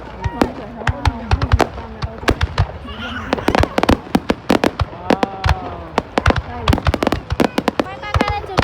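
High-altitude fireworks burst over Dinh Tien Hoang square in Hoa Lu, Ninh Binh, Vietnam, a rapid irregular run of loud sharp bangs and crackles with whistling trails, while people talk nearby.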